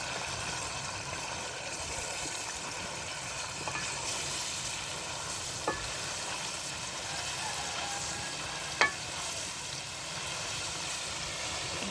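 Chicken karahi cooking in a pan until golden makes a steady, faint sizzle that runs the whole time, broken by a few brief clinks and taps, with no one speaking.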